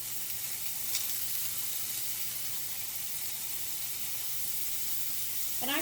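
Bacon pieces sizzle in a saute pan with a soft, continuous hiss, fairly faint and steady. A brief metallic stirring scrape cuts in at the very end.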